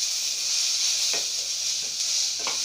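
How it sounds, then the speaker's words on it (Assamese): Tomatoes fry in a pan with a loud, continuous, close sizzle and hiss, and a few faint scraping stirs come through; no one talks. "মই বিলাহিখিনি পমি যোৱালৈকে ফ্রাই কৰি আছো"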